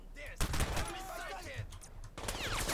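Rapid gunfire in the Crysis shooter game, several sharp bursts of shots in quick succession spread across the clip, moderately loud against background game sound.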